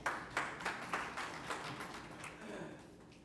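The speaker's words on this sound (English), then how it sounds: "Let's welcome them and have a round of applause for them." Quiet applause greets the speakers at an industries and SME summit, a thin rhythmic patter of a modest crowd's hands, soft and somewhat distant, tapering slightly toward the end.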